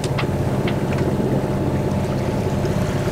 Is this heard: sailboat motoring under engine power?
yes